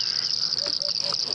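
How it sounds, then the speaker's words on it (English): Painted reed frogs and rain frogs call at a small waterhole after rain. A steady, dense high-pitched chorus fills the air, with a few short, nearer chirps standing out over it and no talking. "But this cacophony of frog calls coming from this little waterhole after the rain."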